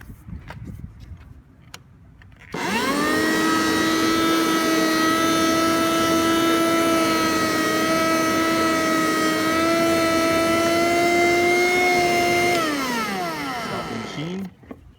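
An electric lawn dethatcher starts up after a couple of seconds and runs loud and steady with a high harmonic whine for about ten seconds, then winds down near the end.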